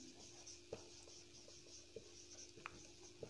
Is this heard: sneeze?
no